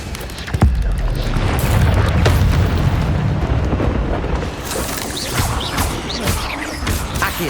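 An Incendio fire spell cast in Hogwarts Legacy bursts with a sharp impact, then a loud, roaring, crackling blaze rumbles for several seconds, with faint scattered sounds on top.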